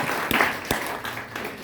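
Brief burst of audience clapping at a talk on making money in Uganda, a loud wash of hand claps with a couple of sharper accents, lasting under two seconds.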